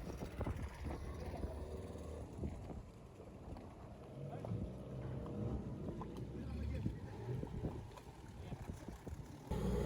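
A dinghy outboard motor pushing a larger boat drones steadily with wind buffeting the microphone and water noise; voices murmur faintly in the background.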